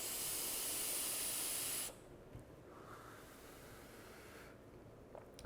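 A vape with a 0.2 mesh coil is drawn hard at full airflow, giving a steady, close, breathy hiss for about two seconds before it cuts off into quiet.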